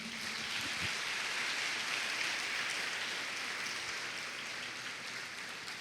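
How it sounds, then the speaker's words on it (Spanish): A church congregation applauds in a steady, even patter of many hands, moderately distant and sustained throughout, with no speech over it. "Denle un aplauso a Jesucristo."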